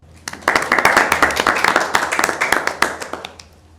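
Schoolchildren in a television studio for a Bible quiz break into loud, close applause, starting with a few claps, building into energetic clapping from many hands, then tapering off near the end.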